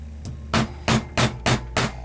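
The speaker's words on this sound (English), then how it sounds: "I usually prefer just to go ahead and hammer on it." Hammer striking metal rivets on leather cuffs, five firm evenly spaced blows in quick succession with a lighter tap before them, close and loud, no talking.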